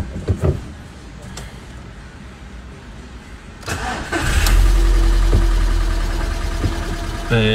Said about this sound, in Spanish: Vamos a arrancarlo para que baje un poco el anticongelante y lo tengamos que rellenar también.